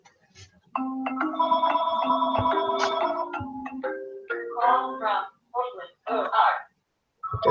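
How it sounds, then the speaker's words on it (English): A phone rings at home during an online lesson, with a tonal ringtone-like melody for several seconds followed by choppy bursts. Close and clear, with no talking over it. "Lydia, can you get the phone, please?"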